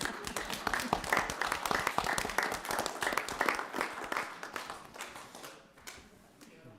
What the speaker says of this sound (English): I think we need a big round of applause for all these people out there.